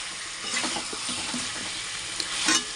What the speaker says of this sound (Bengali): মাংসটা কষানো হচ্ছে, আর আলু ঠালু সবই এর মধ্যে দিয়ে দিয়েছি